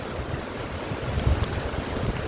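Broad, steady rushing of a flooded river's heavy water roars continuously with wind buffeting the microphone, loud and close, with no voices.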